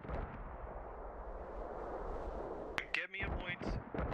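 A long mortar barrage in the video game Squad: a steady, distant rumble of rolling impacts under constant noise, then a few sharper nearby blasts and crackles near the end, with voices talking.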